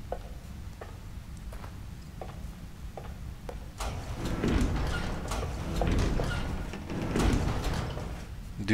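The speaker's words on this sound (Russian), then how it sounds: "Двери, блядь, как у моего лифта прям." Sliding doors grind open in the horror game The Evil Within, a rumbling mechanical slide with rattling clanks following a run of evenly spaced ticks, growing louder and busier in the second half.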